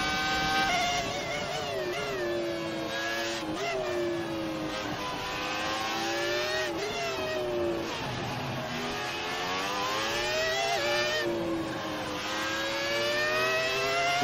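Race car engine in the F1 2018 game, heard onboard: a continuous high-pitched whine rising and falling through gear shifts and revs, steady and close, with no talk over it.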